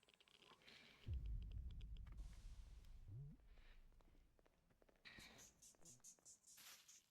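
Bees buzz in the space-station video game Space Station 14 as a quiet, fluttery insect drone that swells briefly and fades, with faint clicks and soft background sounds around it.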